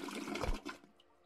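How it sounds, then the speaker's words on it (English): A toilet flushes in a video game: one brief watery rush that fades quickly into a soft trickle, heard on its own. "I can flush the toilet, let's go!"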